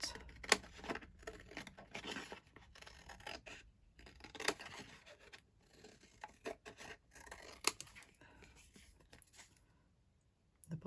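Scissors snip through paper while an ephemera tag is cut out, a run of close, quiet crisp snips and rustles with short pauses, no voices.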